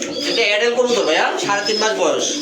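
Pigeons offered for sale, including feather-footed birds, coo steadily at close range while someone talks over them throughout.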